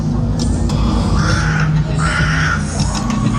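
Several loud crows caw in quick succession, harsh and close, over a steady low background hum, at Thorpe Park theme park during its Fright Nights Halloween event.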